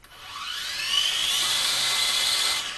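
Holy Stone X400 FPV quadcopter flying, a steady high-pitched propeller whine that rises in pitch early on and holds loud and close for a few seconds before easing slightly.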